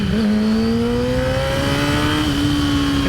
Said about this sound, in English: Couple revs there for the boys.